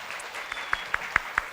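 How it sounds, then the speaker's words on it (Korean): An audience at a university student event claps to welcome a professor: a handful of crisp, evenly spaced claps over a soft room hum. "큰 박수로 맞아주셨습니다"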